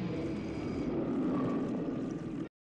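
A helicopter in a TV drama episode drones steadily with a loud, rumbling engine and rotor roar, continuous and fairly close before stopping abruptly.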